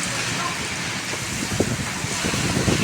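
Heavy rain pours down in Dubai during a thunderstorm, a steady dense hiss of falling water with a brief louder patter partway through, continuous and close, with no voices.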